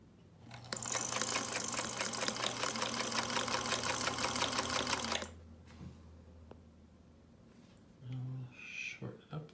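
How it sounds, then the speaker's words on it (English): A 1940s Singer Model 221 Featherweight sewing machine stitches fast and steadily for several seconds with a loud, even mechanical whir and needle chatter, then stops; faint voice afterward. "I'm gonna sew in it next, and I'll try to one-hand it so I may not sew straight."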